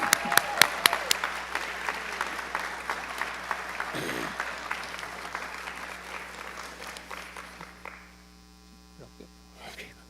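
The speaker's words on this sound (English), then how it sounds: "Let's give applause for all our 2022 inductees." Applause from an audience at a 2022 National Honor Society induction ceremony, a steady patter of clapping over a low electrical hum that thins out and fades near the end.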